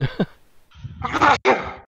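A single sharp sneeze, preceded by a quick intake of breath, close and loud, followed by silence.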